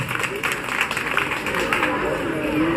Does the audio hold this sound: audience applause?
yes